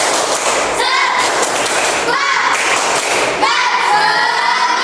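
A classroom of pupils performs a rhythmic clapping chant, bursts of claps in patterned groups mixed with children's chanting voices, loud and close.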